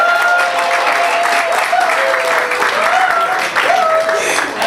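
Steady, dense applause fills a gala dinner hall, with tonal voices or music threading through the clapping; it stays loud and continuous throughout.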